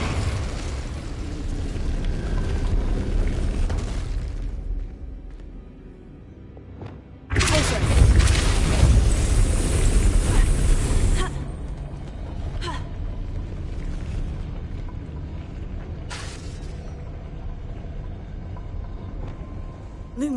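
The Incendio fire spell in Hogwarts Legacy erupts partway through as a sudden loud, roaring whoosh of flame lasting several seconds over a low rumbling game ambience, followed by a few brief softer flares.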